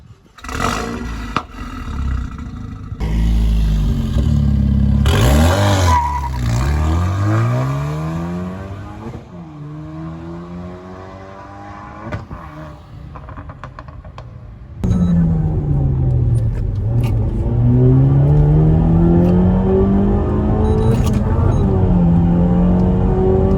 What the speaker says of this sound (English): It's time to start up this monster and take it for a drive. Let's hear what it sounds like.